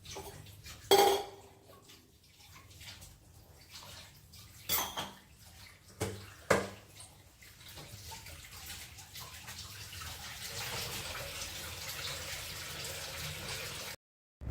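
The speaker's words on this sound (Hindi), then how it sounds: "यहाँ पे मैं जो बर्तन था थोड़ा बहुत, वो भी मैं अच्छे से क्लीन कर लूँगी" Utensils are washed in a home kitchen: several sharp clanks of pots and dishes come first, then tap water runs steadily alongside softer clattering, all close by, with no talking.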